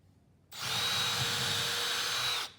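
Power drill boring a pilot hole in wood for a bench, a single sustained high whine that starts abruptly, holds steady for about two seconds, then cuts off, close and loud with no talking.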